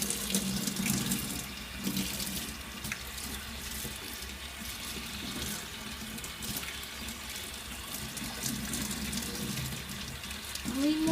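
Tap water runs steadily into a sink while a baby bottle is washed, a constant close splashing rush with faint clinks and brief muffled voices underneath.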